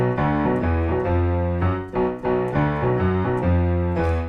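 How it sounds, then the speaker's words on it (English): Piano playing the riff, a punchy repeating pattern of strongly struck low and mid notes in a steady rhythm, close and loud with no talking. "it's built around an awesome piano riff"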